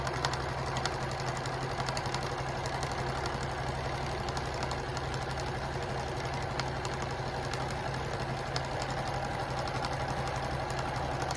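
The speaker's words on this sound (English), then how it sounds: "I'm going to sew across the bottom." A sewing machine stitching across the bottom of a drawstring tote bag with clear vinyl panels, a steady, fast mechanical hum with faint regular ticking, running evenly and fairly quietly throughout.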